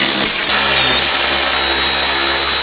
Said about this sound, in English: using a T40 torque bit, we're going to take out the bolts